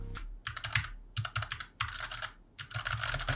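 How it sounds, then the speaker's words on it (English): Rapid clicky keystrokes from an IQUNIX F96 mechanical keyboard with long key travel, typed in several quick bursts with short pauses between them, close and crisp. "you can tell that there's a longer key travel, thus making that really satisfying clicky sound"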